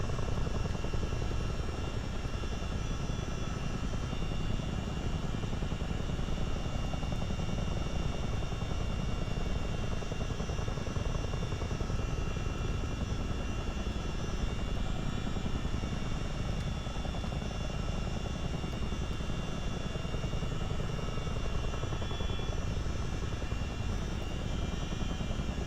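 A CH-47 Chinook helicopter flies at low level, heard as a loud, unbroken drone of engine and rotor with a heavy low rumble and steady tones, constant and close the whole time.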